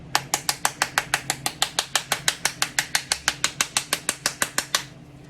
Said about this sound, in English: tap, tap, tap around the outside shell.